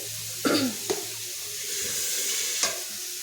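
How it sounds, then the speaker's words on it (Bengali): Vegetables including banana stem, figs, spinach, potato, eggplant and kohlrabi tipped into a hot pan, with a few sharp clatters of stirring over a steady low sizzle; no talking. "এবার এই সবজিটা দিয়ে দেবো"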